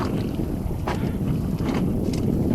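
Steady wind buffets the microphone aboard a sailing boat heading from Ham to Sandbanks, a continuous broadband rush with faint water sounds beneath and no voices.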